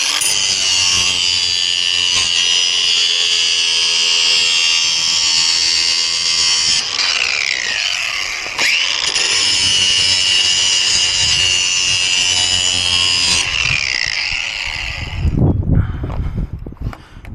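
Lawn mower blade being sharpened on a bench grinder, a steady high whining grind running loud and continuous for most of the stretch, briefly easing twice, before ending in a few rough knocks and clatters.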